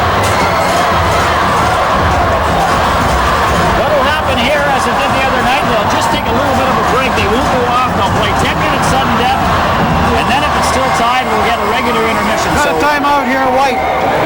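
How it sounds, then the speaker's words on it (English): Hockey crowd at a junior playoff finals game in New Liskeard, cheering and shouting steadily and loudly throughout, with commentators talking over the roar. "you heard the crowd getting into it now"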